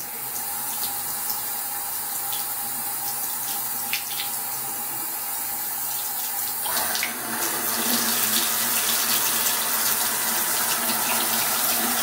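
Hot water runs steadily from a tap into a sink, a continuous splashing rush that grows fuller and louder midway as the flow increases.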